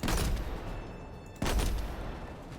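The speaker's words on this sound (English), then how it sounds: "I love the way the sniper sounds." Two heavy sniper rifle shots in Destiny 2, each a loud booming crack about a second and a half apart, the first ringing out into a fading echo.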